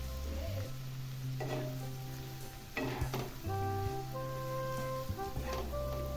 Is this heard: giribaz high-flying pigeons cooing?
no